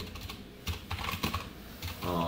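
Computer keyboard typing code, a short run of quiet individual keystrokes clicking at an uneven pace, close and alone without speech.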